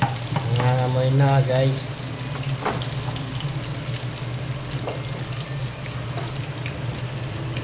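Garlic frying in a pan while being stirred gives a steady soft sizzle with occasional scraping clinks, and a person speaks briefly over it at the start.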